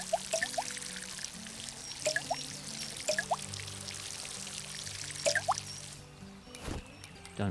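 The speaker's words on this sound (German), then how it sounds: "So, erstmal gießen natürlich." Watering plants in the Garten Simulator video game: a liquid pour with repeated dripping splashes in short bursts, close and moderately loud, with no talking.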